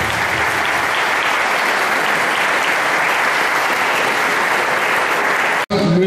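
A crowd at a primary school graduation ceremony claps in sustained, loud applause that holds steady for several seconds before cutting off abruptly, followed by a brief moment of talk.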